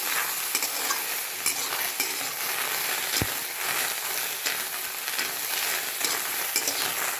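Pavta beans roasting in a pan give off a continuous low sizzle for several seconds, with scattered small crackles and one sharp tap in the middle, heard close and fairly quiet.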